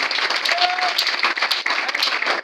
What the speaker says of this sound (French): Acclamez le Seigneur. Donnez des acclamations.